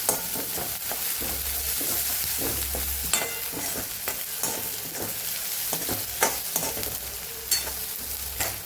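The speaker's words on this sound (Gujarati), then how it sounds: "લસણ ને આદુ ને મરચાંની સરસ આપણે એકદમ સાતળી લેવાની છે।" Garlic, ginger and green chillies sauté in hot oil in a pan for mixed dal tadka, a close, steady sizzle broken by repeated scraping stirs of a spoon against the pan.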